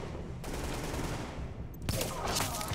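Automatic gunfire crackles in rapid bursts during a Tom Clancy's The Division firefight, with one sustained stretch followed by a louder burst near the end.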